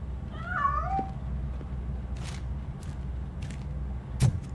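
A cat meows in the RoboCop: Rogue City video game, two short rising-falling meows from a hidden cat early on, followed by faint footsteps, scattered light clicks and quiet ambient hum.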